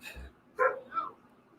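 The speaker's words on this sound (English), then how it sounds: "If you hear a dog barking in the background" Two short dog barks, a sharp one then a softer yip, faint and somewhat distant, with no other activity around them.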